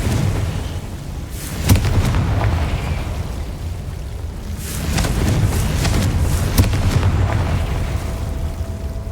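Confringo blast spells in the video game Hogwarts Legacy go off as two sharp, booming explosions a few seconds apart, each rising above a continuous low rumble of game ambience.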